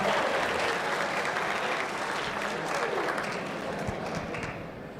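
A conference audience at a cloud community event claps and cheers continuously, a dense wash of applause that stays fairly loud throughout and tapers slightly toward the end.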